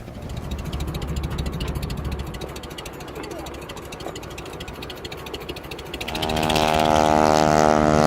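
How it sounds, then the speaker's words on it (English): A small propeller plane just launched at an airport drones with a broad engine roar that swells loudly near the end as it passes close by, with people talking faintly in the background. "They just launched a little plane that was loud as could be."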